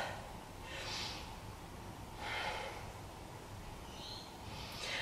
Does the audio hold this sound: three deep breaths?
yes